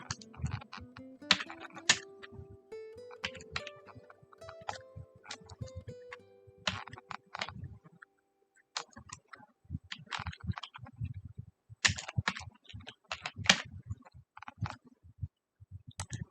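Someone types on a computer keyboard while filling in an online form, tapping out quick irregular bursts of close, quiet keystrokes separated by short pauses.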